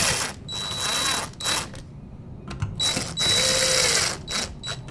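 A flathead screwdriver tightens the screw on an electrical outlet, heard as bursts of close scraping and ratcheting with short pauses between turns and a faint high whine.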